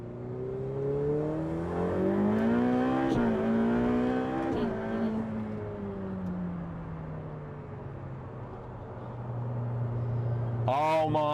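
A Ferrari HKV 488 Pista in race mode pulls hard from second gear into boost, its engine note climbing loudly through rising revs with sharp shifts, easing off and then building again.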